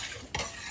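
Rice and milk stirred together in a pot for kheer, a single short scrape of the spoon against the pot with a soft liquid swish, close by.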